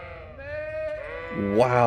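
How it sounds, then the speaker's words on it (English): Two sheep bleats in the video game Kingdom Come: Deliverance, a wavering drawn-out cry followed by a louder, harsher one, close and clear with no other sounds. "Why are we in a field of sheep?"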